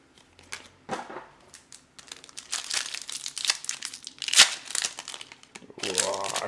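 Foil wrappers of first-edition trading card packs crinkle and tear as they are opened by hand close by, in irregular crackling bursts with short pauses between.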